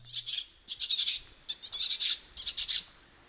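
Kakerori calls imitated by a person: bursts of high, bright bird chirps come in quick clusters with short pauses between, fairly close and clear against a quiet background in the Takitumu Conservation Area.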